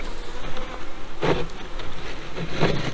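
Honey bees buzz busily at a hive split, a thick, continuous drone near the listener with a couple of brief louder bursts as bees pass close, no voices.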